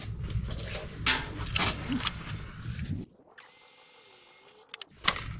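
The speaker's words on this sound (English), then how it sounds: "I'm going to take my heat gun" Heat gun blowing over wet-colored rhinestone jewels on a papercraft project, a steady whirring hiss that starts after some handling clatter, runs about a second and a half, then cuts off.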